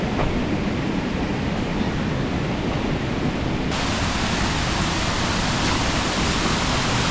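Pampanal waterfall in Kerala roars with a constant broadband rush of falling water, loud and close, unbroken throughout.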